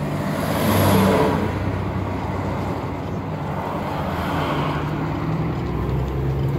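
A car pulls away on a test lap, its engine a steady muffled drone heard from inside the cabin that swells briefly early on and then holds even, with no talk.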